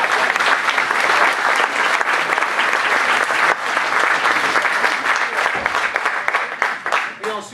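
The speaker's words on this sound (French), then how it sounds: "il va falloir frapper très fort dans vos mains" Audience clapping hands together at a live stage show, a loud, sustained roar of applause filling the whole stretch, thinning briefly near the end before surging again, with no talk on top.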